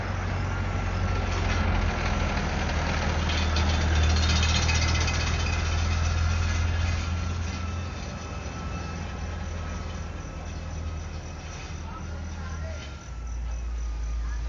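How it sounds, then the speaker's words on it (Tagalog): A garbage truck rumbles along a street below a small FPV drone on a mildly windy day. The deep engine drone stays steady under the buzzing propeller noise, strongest in the first half and then easing slightly. "Truck ng basura."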